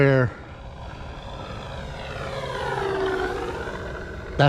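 An E-Flite Carbon Z T-28 electric model plane, fitted with a Master Air Screw 15.7 propeller, runs at about three-quarter throttle with a steady, loud whine that slowly rises and falls in pitch. A voice is heard briefly at the start and end.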